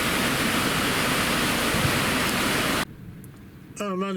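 A mountain waterfall on the Isle of Mull pours down in wet, windy weather, a dense, loud hiss of falling water and blown spray that cuts off abruptly, followed by quieter background and a brief voice.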